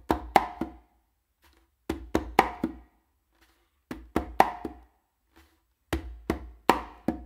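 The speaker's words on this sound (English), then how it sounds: "what you're going to do is going to be like a bass finger and then a close slap." Conga strokes in repeating groups of three or four, a muted low bass-finger tap followed by sharp close slaps, crisp and near, with short pauses between.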